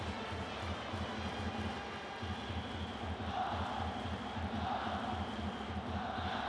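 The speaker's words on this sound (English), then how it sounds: "you can hear the crowd out in right field chanting Sakamoto's name, encouraging him to deliver a big hit" A baseball crowd in right field at a Japan versus Chinese Taipei game chants a player's name in a steady rhythmic cadence, a dense, continuous roar of many voices.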